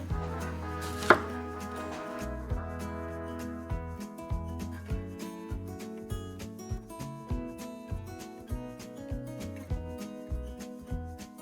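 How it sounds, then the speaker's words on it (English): A knife slices summer squash on a cutting board in a home kitchen, producing regular, evenly spaced chopping thuds close up with background music playing underneath. "So I'm just going to go ahead and slice all of these up"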